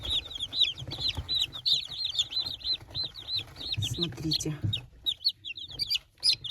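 Three-day-old chicks cheep constantly in rapid, high, overlapping peeps, while a voice briefly speaks nearby.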